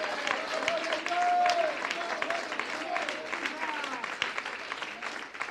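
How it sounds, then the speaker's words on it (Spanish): Congregation clapping in a church during a pastor's sermon, a steady wash of applause with voices calling out over it, fairly close and even in level. "Dale un aplauso, di amén y gloria a Dios."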